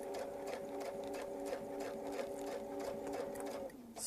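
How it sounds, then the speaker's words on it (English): A sewing machine stitching a small Baptist fan quilting line, a steady close mechanical whir with even rapid needle ticks, running continuously before stopping near the end, no talk. "If you don't stop perfectly, just do another stitch."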